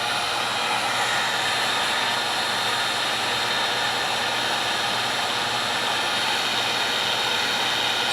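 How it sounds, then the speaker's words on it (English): A heat gun blows hot air onto boot polish, giving a steady, loud, close-up rushing whoosh that holds without a break for the whole span. "So what this heat gun does is exactly what the lighter does."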